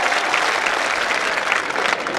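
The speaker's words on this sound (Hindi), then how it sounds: "आपकी तालियां भी भरपूर आनी चाहिए।" Audience applause at a Hindi poetry recital, a steady, full burst of clapping from a crowd, loud and continuous throughout.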